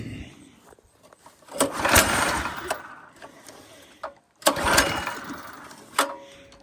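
A compost sifter machine's engine cranks and fires in two loud bursts separated by a short pause, each sputtering and rattling before dying down, with faint voices nearby.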